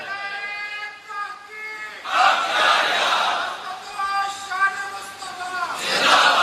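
A crowd at a religious gathering marking the Battle of Badr shouts slogans in loud, ragged bursts. A single voice leads through the opening seconds, and the crowd's response swells, ebbs and surges again to the end.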